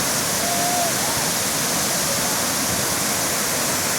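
Burney Falls in northern California pours down as a loud, continuous broadband roar of falling water, steady throughout and close by, with a brief faint tonal squeak early on.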